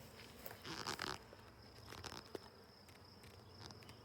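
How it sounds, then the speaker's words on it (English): Honey bees buzz around an opened hive during an egg check, a faint steady drone with a few soft handling knocks and crunches close by. "Sorry, little bees. Don't mean to upset you."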